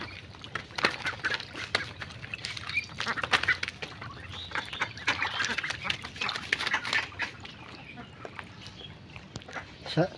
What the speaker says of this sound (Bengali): দেখেন কত সুন্দর করে হাঁসগুলো শামুক খাইতেছে।